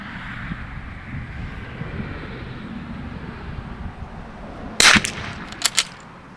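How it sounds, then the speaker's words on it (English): A rifle with a Blackhound Evolve 5-25x56 scope fires one shot at a target during positional shooting outdoors. The single sharp, loud crack comes over steady wind noise and is followed by a couple of faint clicks. "Broke that shot good, smooth, clean."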